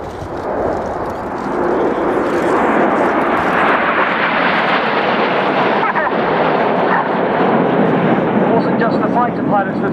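A formation of Red Arrows jets flying in a chevron at RIAT 2015 rolls past as a loud, broad engine roar that swells after the first second and holds steady overhead, with wind buffeting the microphone.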